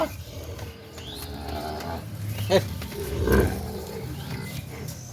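Sahiwal cattle at a farm in Dinajpur, where bulls are kept for Eid sacrifice, give two deep, drawn-out bellows in quick succession over a steady barnyard background.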